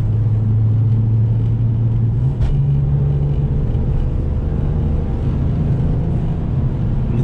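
A BMW M3 drives along a road, heard from inside the cabin as a steady, loud low engine and road rumble with a slight rise in revs midway. Nobody speaks.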